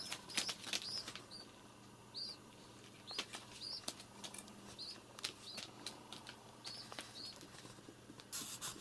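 Wild rock pigeons inside a room take off in a burst of wing flapping, with several quick, fluttering clatters over a few seconds, fairly faint against background noise and mixed with light chirps.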